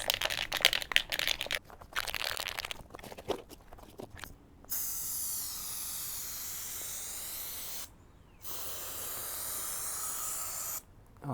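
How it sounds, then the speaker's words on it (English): A Rust-Oleum 5-in-1 spray can sprays paint in loud, close bursts. A few short choppy puffs come first, then long sustained hisses broken by brief pauses. "I'm trying to try out this new Rust-Oleum like 5-in-1 can thing"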